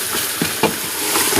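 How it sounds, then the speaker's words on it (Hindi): Beef nalli nihari masala fries hard on high heat, a loud continuous sizzle broken by quick scraping strokes as a spoon is pushed back and forth through the pan. "तकरीबन 10 मिनट मसालों के साथ तेज आंच के ऊपर हम इसको भूनेंगे, दाएं बगाएं चम्मच चलाते रहेंगे।"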